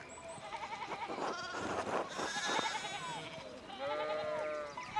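Sheep bleating in the medieval video game Pentiment, several wavering calls from the flock overlapping one another, fairly close and steady, with a second cluster of bleats near the end.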